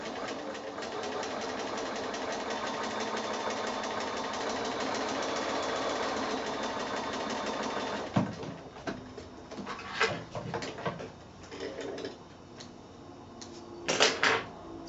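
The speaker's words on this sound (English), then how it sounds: "I'm just using my regular foot here, and I'm just going to sew right the way across." A sewing machine with a regular presser foot runs steadily, stitching quilt blocks together in one continuous fast whir for about eight seconds, then gives way to short bursts and handling clatter.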